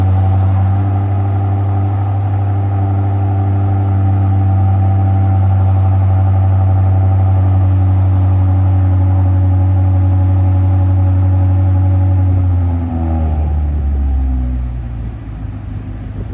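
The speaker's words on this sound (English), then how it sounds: "First, cold start. It should be in sport mode, which means the valve should be open." A 2018 BMW M5 Competition with a 4.4L twin-turbo V8 and Dinan cat-back exhaust cold starts into a loud, steady high idle that drops in pitch and settles near the end, with no voices.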